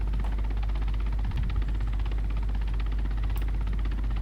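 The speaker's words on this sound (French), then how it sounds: "Bon tu éteins ton hélico gros." A helicopter engine runs steadily in the video game ArmA, a loud constant rotor drone with low pulsing throb and no speech.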